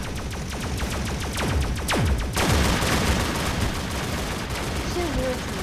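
Rapid bursts of gunfire rattle in the Roblox game Zombie Rush, a dense run of sharp repeated shots that swells into a louder volley midway, then continues more thinly to the end.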